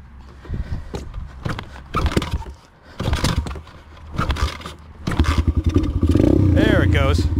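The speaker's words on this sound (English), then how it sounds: "There it goes. Some backfires." A DB Tao pit bike kicked over, its engine catching and revving with sharp popping backfires, loud and close, the revs climbing into a sustained high drone toward the end while a man exclaims over it.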